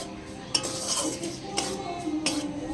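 Dry wheat flour being stirred and roasted in a hot wok over a low flame, with a steady scraping rustle and three sharp metallic clinks of the spatula against the pan, close and moderately loud.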